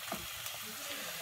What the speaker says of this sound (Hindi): ये प्याज ब्राउन हो जाता है